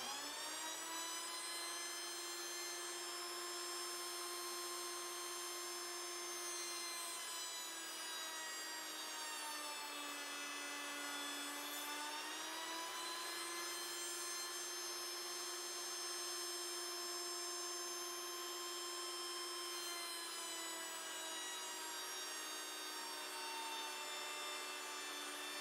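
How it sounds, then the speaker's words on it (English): Router table cutting a spline slot in a wooden circular picture frame, a loud sustained high-pitched motor whine that dips briefly in pitch as the bit bites the wood, steady and close throughout. "we'll go over to the router table and we'll cut the spline."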